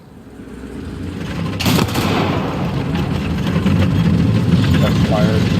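Tank cannon fire from an M2A4 light tank in the War Thunder game on desert terrain: one sharp broadband blast about a third of the way in, over a steady engine rumble, with faint talk in the background.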